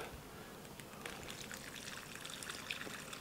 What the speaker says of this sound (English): you hold the bag open here, and I will pour in.